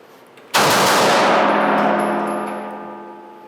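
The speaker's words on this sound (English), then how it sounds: "Extend the gun and fire three." A handgun fired in a shooting drill gives one loud, sharp report with a long ringing decay, heard alone and close.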